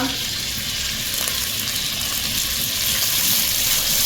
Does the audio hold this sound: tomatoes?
yes